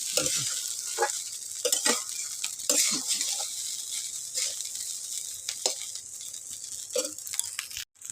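Fried rice mixed with masala sizzles steadily in a hot pan while a spatula stirs and scrapes it in repeated strokes, close and fairly loud with no speech.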